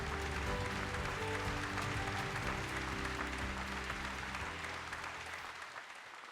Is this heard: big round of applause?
yes